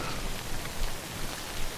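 Steady broadband hiss of heavy rain falling in the Death Stranding video game world, an even, continuous wash of drops with slight swells, no voices.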